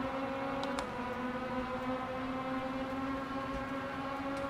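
An opponent's Formula 4 car in a racing video game gives a steady, droning engine hum at constant pitch, fairly quiet, with a couple of faint clicks on top.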